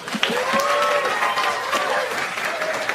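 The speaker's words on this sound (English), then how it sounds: "How many of you, by applause, believe there's a God?" Applause from a comedy-club audience of about 1,400, a brief, fairly thin wash of clapping with some voices and cheers mixed in, steady for a few seconds.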